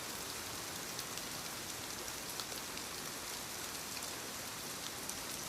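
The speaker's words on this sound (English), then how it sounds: "It's a bad night for rain." Steady, even rainfall patters down continuously with no pauses, a dense hiss of drops on surfaces, fairly soft and constant throughout.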